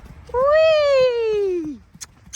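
A cat gives one long, close meow lasting over a second, its pitch sliding steadily downward before it breaks off, followed by a couple of faint clicks in a quiet room.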